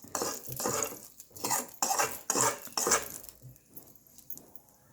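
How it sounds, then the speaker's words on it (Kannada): A spoon scrapes and clinks against a bowl in rhythmic strokes, close and clear, while dhokla batter is mixed with chutney and tempering. About five vigorous strokes are followed by softer, slower scraping. "ಮಿಕ್ಸ್ ಮಾಡ್ತಾ ಇದ್ದೀವಿ"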